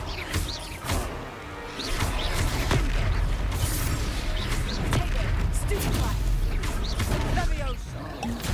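A Confringo fire spell blasts during a Hogwarts Legacy battle, a loud burst of crackling booms that sits in a dense mix of game effects while voices talk over it.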